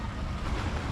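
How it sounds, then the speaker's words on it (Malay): Ocean waves wash onto a beach at Pantai Cahaya Negeri, Port Dickson, a steady broadband surf roar with wind noise on the microphone, continuous and fairly loud with no voices. "Ombak."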